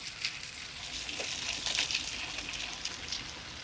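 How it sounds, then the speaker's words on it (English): Veal chops fry in an oiled pan, giving a continuous close crackling sizzle with fine popping spatters and no voices over it. "So when you're frying those chops, you gotta be careful not to burn"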